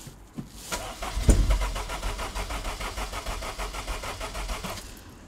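An MG TF sports car engine cranks over with a fast, even rhythmic churning from the starter and tries to catch, one sharp thump early on, sustained for several seconds close by.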